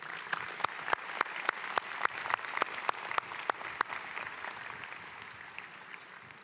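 Commencement audience applauding after an honorary Doctor of Humane Letters is conferred, a dense steady wash of many hands with sharp individual claps standing out, loud at first and gradually thinning toward the end.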